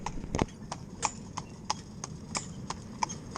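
Hooves of a heavy, big-boned, low-set working horse clip-clop in a steady, fairly close rhythm, each strike sharp and distinct, with a faint voice and outdoor background beneath.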